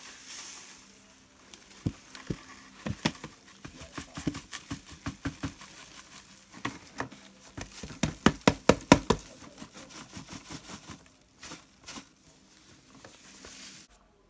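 Homemade laundry detergent ingredients being mixed thoroughly in a batch, a run of irregular knocking and scraping strikes, some sharp and loud, clustering in the middle and thinning toward the end.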